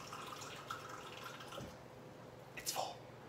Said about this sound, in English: I'm home, filling up my water.